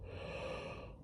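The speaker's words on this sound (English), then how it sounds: "Wait, I gotta yawn, sorry." A single drawn-out human yawn, close and fairly loud, breathy and continuous for about a second before fading, with no talk over it.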